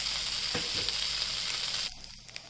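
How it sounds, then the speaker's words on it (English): Poha tikki patties sizzle and fry steadily in an oiled pan, a continuous close crackle with a faint stir or turn near the start, the sizzle dropping abruptly quieter just before the end. "Continue cooking the patties, turning into the other side until it is thoroughly cooked"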